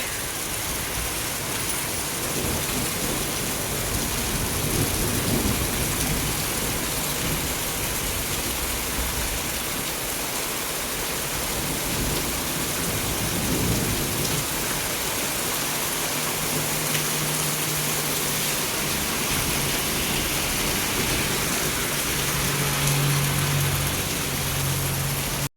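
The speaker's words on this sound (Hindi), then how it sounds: "कितनी तेज बारिश हो रही है" Heavy rain pours steadily outside during a monsoon-like downpour, a dense continuous hiss with scattered drips, loud and unbroken for the whole stretch, with faint low rumbles in the background.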